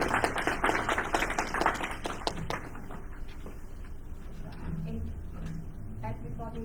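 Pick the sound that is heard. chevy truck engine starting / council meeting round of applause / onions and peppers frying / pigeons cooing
council meeting round of applause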